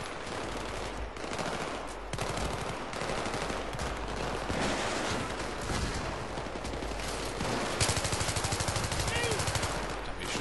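Dense, loud gunfire in Battlefield 3: sustained automatic bursts and overlapping shots fill the whole stretch without pause, with a heavier cluster of rapid shots near the end.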